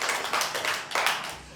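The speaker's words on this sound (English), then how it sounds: "I wish you may clap for yourselves first." Audience at a student English debate event at a college campus in Remera clapping for themselves, a moderately loud patter of hands with uneven swells, no voices over it.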